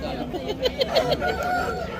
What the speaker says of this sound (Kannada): ಒಳ್ಳೆ ಕ್ವಾಲಿಟಿ ಹುಂಜಗಳು ಇವು.